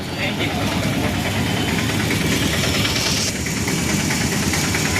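A car engine in a garage, due for servicing, runs at a steady idle with a rough, rattling rumble, voices talking over it throughout.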